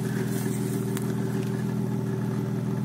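BMW 323Ci E46 from 1999 idling with a cheap double-tip sport rear muffler and straight-through pipe, a steady, close, even engine rumble with a faint tick.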